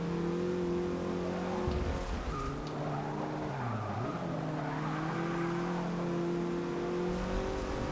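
A Porsche 944 Turbo engine revs in Forza Motorsport 6 with a constant close drone that rises and falls in pitch through gear changes, with some tire squeal in the middle.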